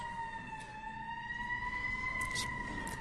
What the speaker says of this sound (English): we have sirens